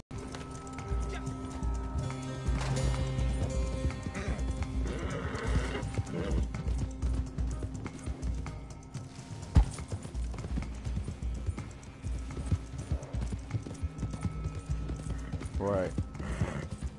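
Horse hooves clip-clop steadily at a run in a video game, a rhythmic galloping beat carried throughout with an occasional whinny, and someone talking over it.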